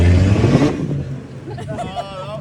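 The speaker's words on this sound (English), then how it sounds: "Stephen Halford sliding the BMW, the big BMW, in fact, the E36 Touring into our first hours on there." A BMW E36 Touring rally car slides through a wet stage at Bishopscourt, its engine revving loudly at first and then fading under excited commentary.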